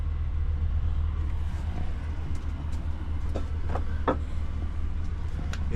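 A pickup truck engine idles at a steady low rumble, close and continuous, with a few faint clicks and taps over it.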